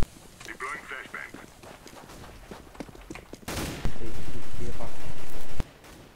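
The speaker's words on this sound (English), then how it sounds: "Deploying flashbang." A flashbang grenade goes off in a tactical team shooter, giving a sudden loud burst followed by a sustained, saturated ringing roar that lasts about two seconds before cutting out, amid background gunfire and scattered team chatter.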